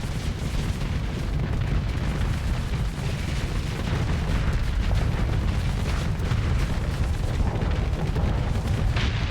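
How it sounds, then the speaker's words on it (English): Big explosion in the space combat game Starsector, a loud, sustained rumbling blast with dense crackling bursts that roar on for several seconds without letting up. "Big explosion."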